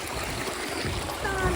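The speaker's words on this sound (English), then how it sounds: "I'm going to wash my boots in there." Muddy hiking boots sloshed and rinsed in a shallow moorland stream, a soft continuous trickle and gurgle of running water close by with faint splashing.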